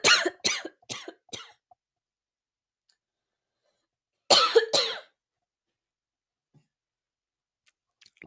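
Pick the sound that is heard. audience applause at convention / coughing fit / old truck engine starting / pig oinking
coughing fit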